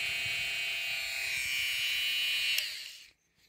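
A small sander grinds a dog's toenail with a steady high-pitched whir, close and constant, then winds down and stops near the end.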